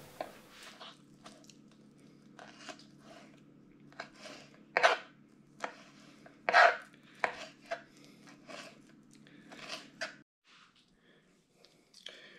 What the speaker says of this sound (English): We're going to cut all that in real small slices and have that as part of the marmalade.